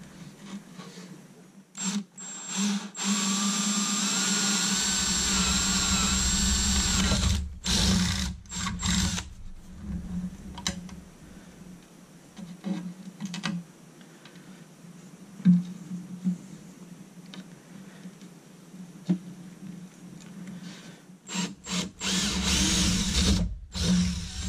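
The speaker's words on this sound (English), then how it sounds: "we're gonna drill some holes in there. So let's drill some holes" Power drill boring holes for a dual joystick hardware install, several whirring bursts of the motor that start and stop, close and fairly loud, with pauses and handling clatter between runs.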